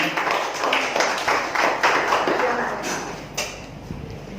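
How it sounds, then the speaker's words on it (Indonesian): Audience applause at a talk on the challenges of young Hindus, a fairly close wash of clapping with loose rhythmic pulses that holds steady and then thins out toward the end. "tepuk tangan sekali lagi"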